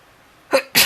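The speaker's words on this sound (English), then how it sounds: "Oh, I'm gonna sneeze." A single sneeze bursts out after a short quiet pause, a sharp two-part snort-and-blast, close and loud with no talk around it.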